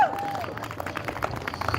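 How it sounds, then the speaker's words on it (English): A crowd at a May Day campus encampment rally in Denver claps steadily in a close, busy wash of applause, with a few voices mixed into the noise throughout. "So everybody just give yourself a round of applause"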